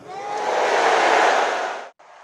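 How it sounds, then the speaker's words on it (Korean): A large crowd at a Trump campaign rally roars in a loud, sustained cheer that swells and holds for about two seconds, then cuts off abruptly before a faint tail resumes. "청중은 환호성으로 바이든이 더 쉽다고 답하는 듯 보였습니다."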